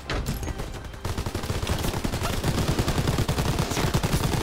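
A mounted machine gun turret fires in Call of Duty: WWII, a loud continuous stream of rapid shots that starts after a brief lead-in and keeps hammering close up without letup.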